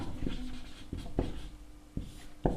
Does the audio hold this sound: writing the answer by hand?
yes